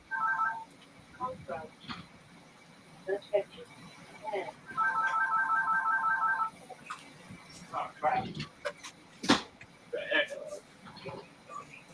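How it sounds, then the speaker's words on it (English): A work phone rings in bursts of electronic trilling tones that repeat with pauses between them. Clicks and other brief household sounds are scattered through the gaps. "The work phone."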